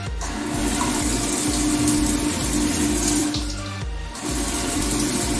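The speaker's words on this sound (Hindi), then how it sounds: "तो हमारा यहाँ पर पानी चालू हो चुका है।" Water rushes steadily into a newly installed two-piece ceramic toilet after the supply is turned on, a loud close gushing flow with a brief dip before it surges again.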